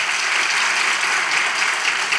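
A studio audience at a Turkish relationship-quiz show gives steady, dense applause, an even wash of clapping that holds at full strength throughout.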